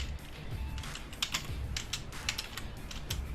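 Typing on a computer keyboard at a PC, a steady run of soft, close key clicks with no talking.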